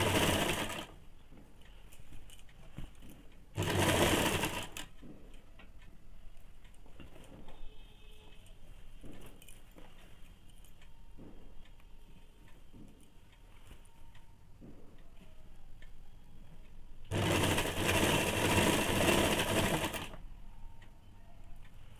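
A sewing machine stitches a seam on ladies' pants at a one-inch allowance, running in three loud bursts separated by long quieter stretches.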